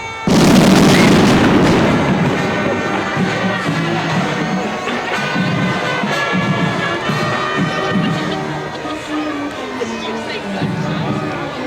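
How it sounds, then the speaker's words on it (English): Fireworks rumbling and booming at a night-time Christmas parade in Jamestown, a loud initial burst then continuous low rumble under festive band music and crowd noise. "So that rumbling noise we heard in the background was a bunch of fireworks"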